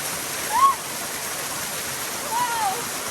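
Waterfall on a Southern California hike, a steady broadband rush of falling water with a faint voice-like tone rising briefly above it twice.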